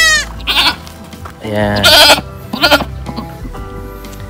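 A mother goat bleats loudly and repeatedly for her newborn kid in a backyard goat farm, a few close wavering calls with other goats nearby and someone speaking briefly.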